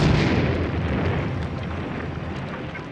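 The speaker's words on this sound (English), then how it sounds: "I heard the explosion." A car bomb explodes in a parking lot: a heavy, loud blast with a rumbling low roar that slowly decays over a few seconds.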